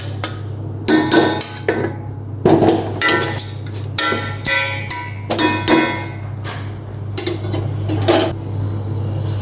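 Rice being tipped from a rice cooker into a cooking pot for pork biryani, a series of irregular metallic clanks and scrapes against a low steady hum, close and distinct.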